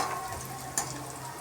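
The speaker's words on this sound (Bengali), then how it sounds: "সব পেঁয়াজ আমি বেটে দেবো না, খানিকটা আমি ভেজে দেবো।" Onions fry in a pan with a steady, close sizzle and crackle, one brief clink of stirring in the middle, and no voices.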